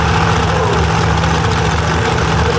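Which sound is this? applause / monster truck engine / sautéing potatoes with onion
monster truck engine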